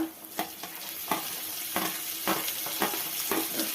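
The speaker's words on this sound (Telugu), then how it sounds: "ఇవన్నీ వేగే వరకు మనం కలుపుకోవాలన్నమాట" Tomatoes fry in a pan under steady loud sizzling as a spoon stirs and scrapes them in a regular rhythm of about two strokes per second, close up, with no talking.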